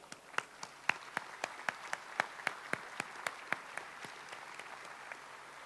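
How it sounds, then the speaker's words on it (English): A small group clapping in honor of long-serving Seneca employees at a gaming compact anniversary celebration, a faint, distinct series of individual handclaps with a steady rhythm that thins out toward the end. "I'd like to give them a special round of applause"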